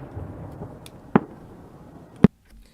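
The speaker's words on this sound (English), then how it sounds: "I got to do some fireworks." Two sharp, loud pops from a fireworks sound effect, about a second apart, over a low background hiss.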